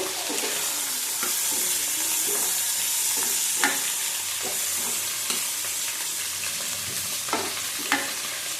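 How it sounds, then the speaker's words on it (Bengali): Chili powder spices fry in a hot pan with a loud, steady sizzle, while a spoon stirs and scrapes in occasional sharp knocks against the metal, close up and without any voices. "ভালো করে আবার ভেজে নেব"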